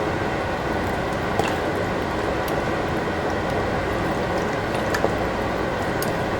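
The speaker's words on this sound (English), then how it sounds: "Just be careful so you don't splatter that hot water on yourself." Vegetables dropped into hot boiling water for a Haitian beef and vegetable stew, a continuous dense bubbling and sizzling wash with a few faint clicks, close and steady throughout.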